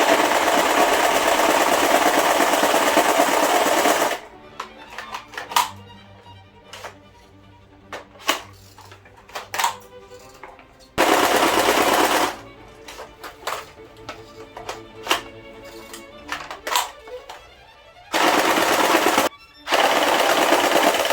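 KRISS Vector airsoft electric gun from Academy Science firing in bursts: loud broadband rattling volleys at the start, then a quieter mechanical stretch, then two more loud bursts near the end.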